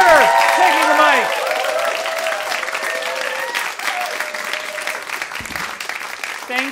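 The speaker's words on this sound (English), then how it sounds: "that's with a gale force round of applause" Comedy club crowd applauds and cheers loudly at first, with whoops over the clapping, then settles to a softer patter of claps.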